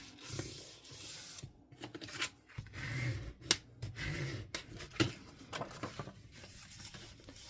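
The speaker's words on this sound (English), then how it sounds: "I'm going to go ahead and fold along all the score lines for this." Cardstock gift box being folded along its score lines by hand, a run of crisp creases, rubs and sharp snapping clicks at close range, irregular in rhythm, no voices.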